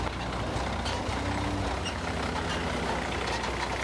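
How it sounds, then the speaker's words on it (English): A dump truck rumbles past at a roadside construction site, a loud, steady engine roar with broadband road noise and no break in the sound. "we've got a dump truck coming right now"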